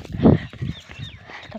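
A goat bleats loudly up close in a short burst, followed by softer nasal calls and rustling movement over about a second and a half.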